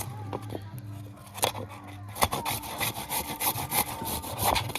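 Fresh green turmeric being finely chopped with a knife on a board, a rapid run of close, crisp knife strikes with a few brief pauses and no talk.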